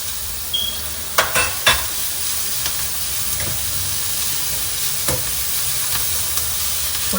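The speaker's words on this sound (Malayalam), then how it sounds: "ഇത് ഇനി ഇട്ട് കൊടുക്കുന്നത് ക്യാരറ്റും ബീൻസും." Carrots and beans for kodo millet upma sizzle steadily in a hot pan, and a few sharp scrapes and clatters mark the stirring over the constant hiss.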